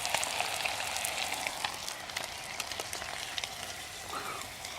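Bluegill fish frying in oil over a Solo Stove outdoors, a steady dense sizzle and crackle of bubbling fat with scattered pops, fairly faint and continuous with no talking.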